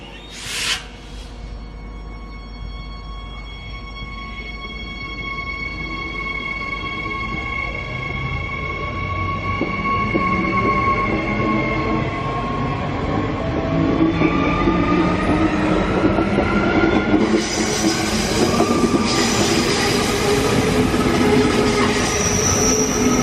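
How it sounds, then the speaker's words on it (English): A commuter train departing Petrie station in Brisbane, bound for Nambour, with its traction motors whining in a rising tone, wheels squealing on the rails, and a steady rumble that builds as the train picks up speed nearby. "This train is heading towards Nambour"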